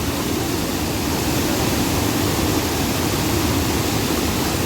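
Waterfall at Yuvarlakçay near Köyceğiz, Turkey, a constant loud broadband roar of falling water, steady and unbroken throughout with no voices standing out.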